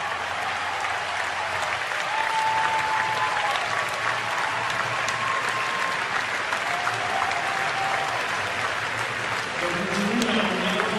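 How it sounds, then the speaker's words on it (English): A large stadium crowd at Hayward Field applauds and cheers after a track meet steeplechase race, a continuous roar of clapping with faint commentary underneath. "Great reaction from the crowd here at Hayward Field. Very appreciative."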